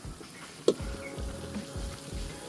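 Chicken fried steak goes back into a hot pan with its frying juices, giving a steady low sizzle and crackle with one sharp clack near the start, close up and fairly quiet, with no talking.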